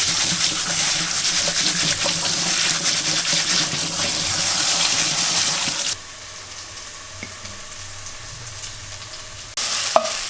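Rice being rinsed under running tap water while preparing an old Albanian Shkodra-style stew: a steady, fairly loud rush of water for about six seconds, then quieter room noise, with a short burst of water again near the end.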